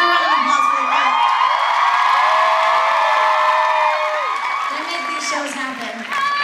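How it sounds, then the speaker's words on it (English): A concert crowd at a Demi Lovato show in Las Vegas cheers, whoops and claps loudly and steadily, with shouting voices rising over the dense applause. "So everybody, give a round of applause for her."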